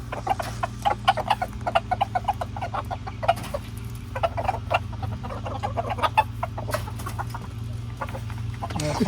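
Backyard chickens, with newly added pullets among the flock, cluck steadily and close by in short, overlapping bursts over a low background hum, and a voice is faintly present at times.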